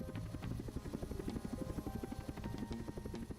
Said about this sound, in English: Guys, there's a helicopter.